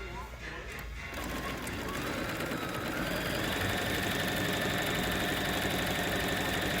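A Bernina sewing machine stitches a quilted Kyoto bag, starting after a second and then running as a fast, steady mechanical rattle throughout, with voices talking over it.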